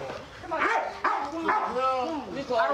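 A police dog barks and yips in short, excited bursts at close range during a tense arrest scene, loud and repeated over a couple of seconds.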